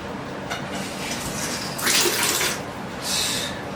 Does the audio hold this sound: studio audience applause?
no